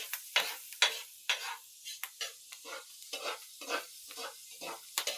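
Food cooking in a pan, stirred repeatedly, giving rhythmic scraping strokes over a soft sizzle, close and moderately loud, with no talking.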